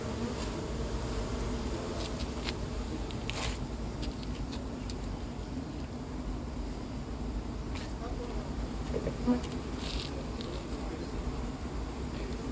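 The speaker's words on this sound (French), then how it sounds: "Les abeilles sont toujours pas agressives depuis ce matin." A honeybee colony housed in concrete formwork hums with a soft, steady buzz and scattered individual bees droning nearby, under a quiet continuous background.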